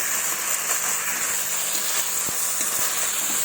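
Fried potatoes and soybean chunks sauté in a pan of fish curry with a loud, continuous hiss of hot oil, broken by a few light scrapes from stirring, close and without any talk.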